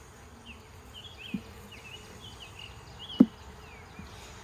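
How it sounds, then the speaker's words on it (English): A steady low hum of bees buzzing around a hive, with a few louder passes and soft thumps, fairly faint and continuous. "there's a really good number of bees"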